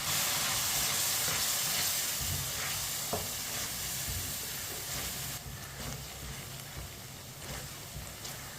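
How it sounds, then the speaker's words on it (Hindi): Spice masala with a little added water being stirred in a pan over a raised flame, a steady close sizzle with scraping stir sounds that eases slightly toward the end. "अच्छी तरह मैंने मिक्स कर लिया है।"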